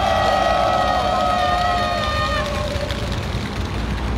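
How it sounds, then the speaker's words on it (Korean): Crowd cheering and shouting at an outdoor election campaign rally at a street intersection, a steady roar of many voices with a sustained shout over car and street noise. "전부 함성 한번 질러주십시오"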